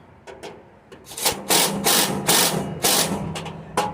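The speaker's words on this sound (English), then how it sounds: "I'm going to use my little impact. Take a 7/16 wrench." Small impact driver with a 7/16 socket working on the bolts of a Char-Griller 5650 grill firebox, giving short rattling bursts that build into several loud close hammering runs, with no talk.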